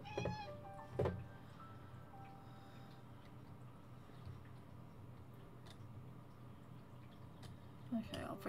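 Cat meows in the video game Calico, a couple of short calls near the start and again near the end over a steady game background with soft speech.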